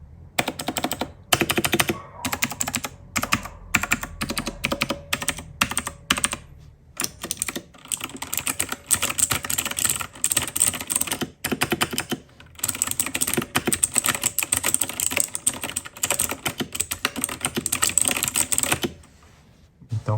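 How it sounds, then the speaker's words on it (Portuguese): Typing on a cheap hot-swap 60% mechanical keyboard fitted with Otemu Blue and Red switches gives a close, continuous rattle of rapid keystrokes with brief pauses, ending in near silence. "uma breve demonstração aqui do som do Otemu Blue e Otemu Red"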